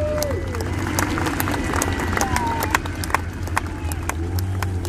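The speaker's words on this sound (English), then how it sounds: "And a big cheer for him standing up." Outdoor crowd at a Royal Signals White Helmets motorcycle display at the Great Dorset Steam Fair applauding and cheering, with sustained clapping and scattered sharp claps over a broad murmur, plus occasional voices.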